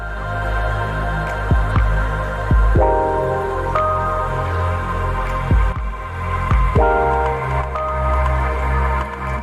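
A slow, mellow drum groove with soft kicks and snares repeating under a warm, sustained looped chord pad, relaxed and steady.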